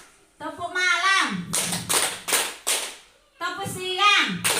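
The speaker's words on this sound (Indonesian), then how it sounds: "Tepuk pagi, tepuk siang, tepuk sore," A group of women in a teachers' training session clap in a patterned chant, several sharp bursts of claps in rhythm alternating with chanted voices leading the call.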